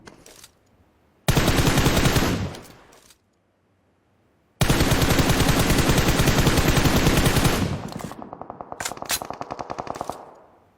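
Loud automatic rifle fire in PUBG in the town of Pochinki comes in two long rapid bursts separated by silence, then trails into quieter, more distant rhythmic shots with echo.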